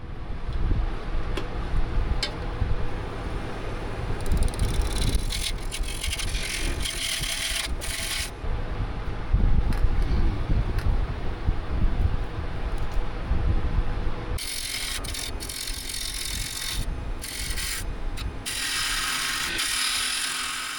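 A wood lathe with a carbide tool cuts into charcoal wood, producing a continuous loud, rough scraping and chattering that comes in bursts and eases off, heard close up with no talk.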